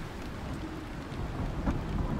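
Steady rain and rumbling thunder of a storm in the survival game Icarus, a continuous dense wash with low rolls swelling toward the end, no voices.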